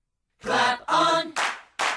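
A short voiced sound leads into two crisp, close hand claps meant to switch on lamps plugged into the Clapper sound-activated switch.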